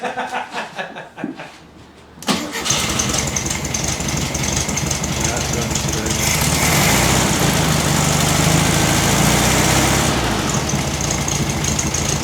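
A Volkswagen Beetle engine turns over, catches, then settles into a steady, loud idle rumble that runs on as it warms up, with a voice briefly heard.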